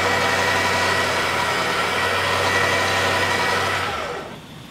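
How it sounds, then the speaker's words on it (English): Sherpa 4x4 electric winch pulling on a bench after salt-water submersion, a loud steady motor drone with a constant low hum that winds down and stops near the end. "there's still plenty of pulling power and this winch is still good to work."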